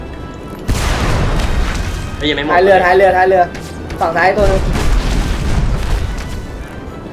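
Booming explosions in the video game Magicka, a few heavy blasts landing under excited talk between players.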